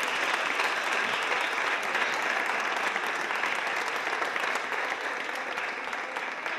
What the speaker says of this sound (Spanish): Un aplauso para él, sí.